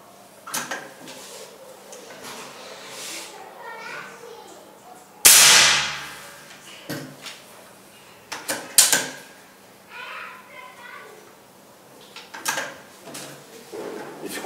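A PCP air rifle fitted with a new suppressor kit is cocked, giving a sharp metallic snap-and-slide mid-clip among several smaller clicks and knocks, with a person talking quietly around it.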